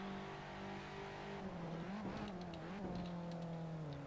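Race car engine in Assetto Corsa racing, a continuous close droning whine that dips and wavers through clumsy, rough gear changes before settling back into a steady pull.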